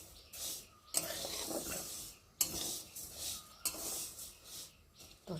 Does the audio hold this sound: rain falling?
no